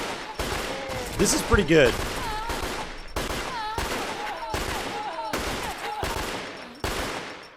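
Rapid pistol shots in a video game, a series of sharp cracks in quick succession, close and loud, with someone speaking between them.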